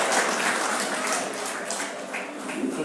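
Applause from an audience in a meeting hall continues, a dense wash of clapping that gradually thins and softens toward the end.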